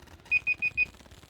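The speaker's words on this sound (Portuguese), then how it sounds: "é só o alarme para não passar o tempo aqui" An alarm timer beeps four times in a quick, evenly spaced burst, clear and moderately loud over faint background noise.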